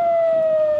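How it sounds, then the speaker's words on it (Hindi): Air raid siren sounding in Israel during an Iranian missile attack, a steady, loud, sustained wail holding one pitch throughout. "मुख्तलिफ इलाकों में सायरन बज उठे।"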